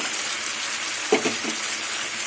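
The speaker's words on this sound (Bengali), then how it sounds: "এবার আমি ভাজা মাছগুলো মশলার মধ্যে দিয়ে দেবো" Fried koi fish pieces slide into a pan of sizzling oil and spice masala, giving a short splash-like burst of sizzle over a steady frying hiss, with no talking.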